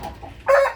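A four-month-old Indio Gigante rooster gives a short, loud cluck up close, preceded by a couple of softer low clucks.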